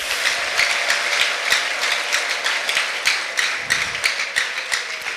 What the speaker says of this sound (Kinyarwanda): Ndumva Imana mwayikomera amashyi menshi.